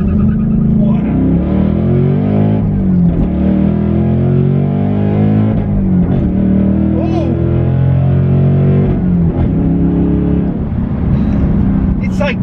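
A 2024 Ford Mustang pulls away from a dead stop with traction control on, its engine note rising as it accelerates, heard from inside the cabin as a loud, continuous drone with a person talking over it.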